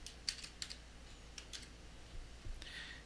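Grades are typed on a computer keyboard in a quiet room, with soft separated key clicks in small bursts and pauses, faint and close, no voice.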